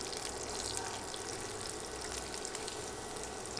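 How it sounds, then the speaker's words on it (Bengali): Dry chilies and five-spice seeds frying in oil for a Bengali tomato tok, a dense, even sizzle that stays close and steady throughout with no voices. "এখন এগুলো সামান্য ভেজে নিব।"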